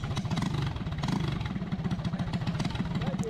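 Kart with a four-stroke engine on a two-stroke chassis, bump started and caught running: a close, loud, rapidly pulsing engine chug that stays choppy and uneven throughout.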